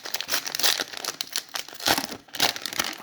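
A Match Attax 2024 football card pack is torn and crinkled open up close, with bursts of foil rustling and tearing over about three seconds and no speech.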